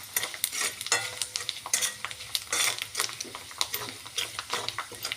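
A spoon scrapes and clatters in a pan of hot oil tempering with turmeric, salt and red chili powder, giving brisk, irregular stirring strokes over a soft sizzle, close and fairly loud.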